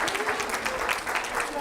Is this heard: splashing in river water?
no